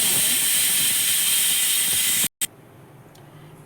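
Pressure cooker whistle during home cooking: a loud, steady hissing jet of steam that runs continuously for over two seconds, cuts out abruptly, then gives way to a quieter residual hiss.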